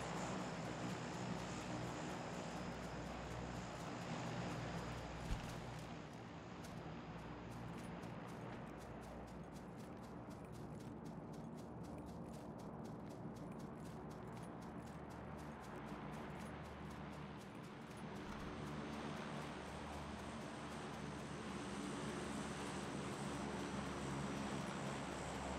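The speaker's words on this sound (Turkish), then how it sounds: "Yani bir uçak gidiyor, bir uçak geliyor." Airplanes passing overhead in PUBG, a steady droning engine roar that swells and fades, continuous and fairly distant, with a faint rhythmic ticking over part of it.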